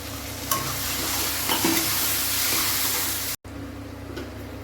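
Paneer bhurji sautéing and being stirred in a pan, a steady close sizzle with scraping stir strokes throughout, briefly cut off near the end before the frying resumes more quietly.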